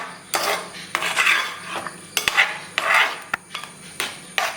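Mashed banana stirred through melted jaggery in a pan for a pazham pradhaman payasam, with repeated scraping and clinking of a spoon against the pan in steady strokes, close and fairly loud, no voices.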